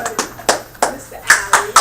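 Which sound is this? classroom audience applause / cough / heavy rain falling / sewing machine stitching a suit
classroom audience applause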